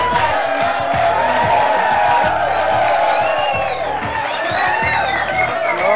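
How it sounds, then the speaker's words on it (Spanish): A studio audience cheers, whoops and shouts as a guest named Jacqueline is called forward, a loud, continuous crowd roar with scattered yells throughout. "un fuerte aplauso para Jacqueline"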